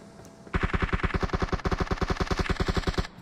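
Rapid automatic gunfire in a mobile battle royale game, a loud burst of about twenty evenly spaced shots fired close by after a short pause, then a sudden stop.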